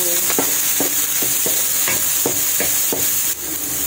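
Sliced onion sautéing in a hot pan with a steady hiss of frying, punctuated by a regular series of spatula taps and stirring strokes, close and fairly loud.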